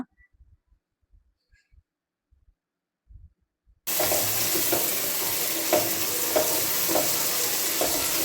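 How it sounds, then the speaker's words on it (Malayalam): Chopped tomatoes sautéing in a hot pan for egg biryani: a few faint taps and knocks, then a sudden loud, steady sizzle with intermittent stirring scrapes for the last four seconds. "ഇനിയിപ്പോൾ ഞാൻ ഇതിലോട്ട് ഒരു മൂന്ന് തക്കാളി അരിഞ്ഞതും കൂടെ ചേർത്ത് കൊടുക്കുന്നുണ്ട് എന്നിട്ട് ഒന്നുകൂടെ ഒന്ന് നന്നായിട്ട് തന്നെ വഴറ്റിയെടുക്കുക"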